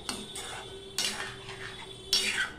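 A utensil scrapes and clinks against a pan while bitter gourd and potato are stirred together, several distinct metallic strokes separated by short pauses, close and alone.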